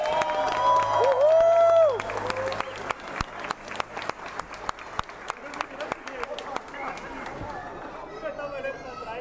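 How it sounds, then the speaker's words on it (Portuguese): A crowd at a political campaign speech in Maringá, Brazil, bursts into applause with cheering, fading into scattered clapping and chatter over several seconds. "Uma salva de palmas!"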